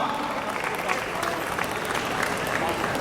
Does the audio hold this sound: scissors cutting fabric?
no